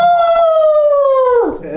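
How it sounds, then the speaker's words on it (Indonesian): A husky dog gives a loud, close, wolf-like howl, one long sustained tone that slides slowly downward before breaking off near the end. "itu bukannya suara serigala ya? Dia memang rasnya husky."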